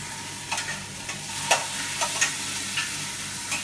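Tomato paste frying in a pan for a Bengali chicken curry, with a soft continuous sizzle broken by several sharp scraping stir strokes at an uneven rhythm, close by and with no talking.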